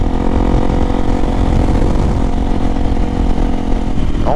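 Honda XRE 300 motorcycle fitted with a Dore exhaust, its engine running loud and close with a steady, throaty drone that holds throughout without talking.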